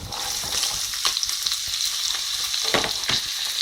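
Chilli and chopped onion fry in a pan over low to medium heat, a steady close sizzle broken by occasional stirring scrapes and clicks, with no voices.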